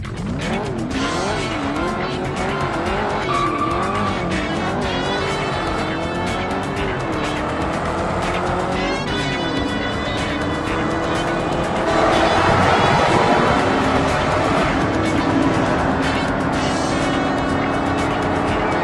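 Race car engines whining and shifting pitch in Ford Racing 2 on a city track, with tires squealing through corners and a louder skid midway, steady and close throughout.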